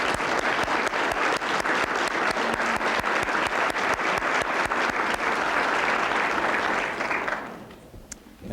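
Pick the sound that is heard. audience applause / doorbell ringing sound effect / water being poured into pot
audience applause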